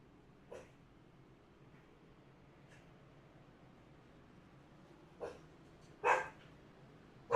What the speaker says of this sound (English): Dog's a little excited about it all. You'll hear him.